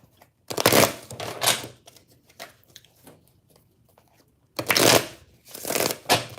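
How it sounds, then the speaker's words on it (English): Two bursts of playing cards being shuffled, each riffle a quick papery flutter, separated by a quiet pause with faint soft rustling. "Let me start shuffling, y'all."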